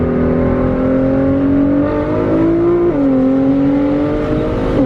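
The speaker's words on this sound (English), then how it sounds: "So, first time driving a GTR." A Nissan GT-R accelerates hard, its engine note rising steadily and loudly from inside the car, with a quick shift dip partway before the drone climbs again.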